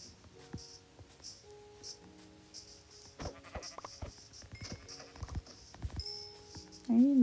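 Short Minecraft sheep bleats pop up sporadically among soft clicks and tapping, with a louder tone right at the end.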